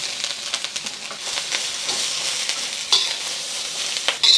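Onions and carrots fry in oil in a pan, a steady bright sizzle broken by scattered crackles and spatters, close and alone with no voices.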